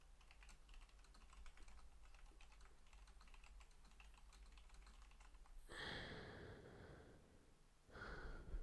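Typing on a computer keyboard, a faint, steady patter of quick key clicks for several seconds, followed by louder breathing and snorting sounds close to the microphone.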